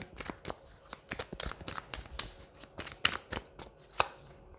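Cards from an angel oracle deck are handled and drawn, giving a quick run of crisp, papery snaps and rustles, close and fairly loud, with no talk.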